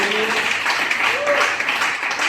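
A church congregation applauds for the Lord in a steady, dense wash of clapping, with a voice rising over it.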